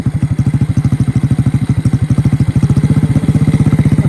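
A Honda CT70 motorcycle engine idles up close with a fast, even, loud chugging pulse that stays steady throughout and picks up slightly in the second half.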